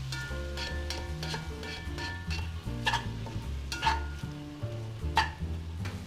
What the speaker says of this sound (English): we're gonna cook it at medium heat for around 10 minutes until the onion has turned golden brown